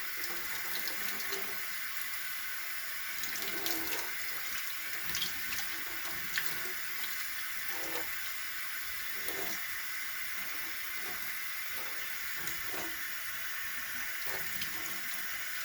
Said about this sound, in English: I just let them wash until they are completely, the water's completely clear